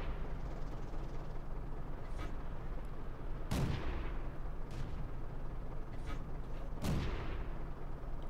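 Tank cannon shots from an M5A1 Stuart in World of Tanks, two sharp loud blasts a few seconds apart over a steady engine rumble, with fainter distant impacts between.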